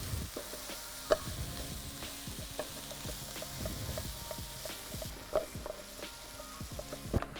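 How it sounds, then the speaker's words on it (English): Crumbled sausage sizzles and crackles in a pan for a ragu, with repeated scraping stir strokes and sharp pops over a constant frying hiss, close and moderately loud. "So now we're just waiting for the sausage to cook all the way through"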